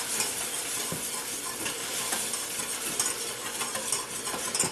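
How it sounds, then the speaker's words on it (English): Evaporated milk stirred into a mac and cheese sauce in a pot, a steady close scraping and stirring with faint sizzle, continuous for several seconds with small clinks of the utensil and no talk. "I'm going to add this a little bit at a time and stir it in to get the lumps out"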